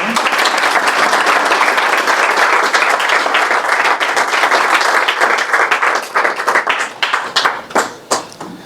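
An audience bursts into loud, sustained applause welcoming a speaker, dense clapping that thins into scattered claps toward the end.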